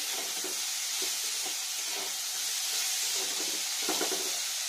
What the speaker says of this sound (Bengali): আলুটা ভাজা ভাজা হবে মশলার সাথে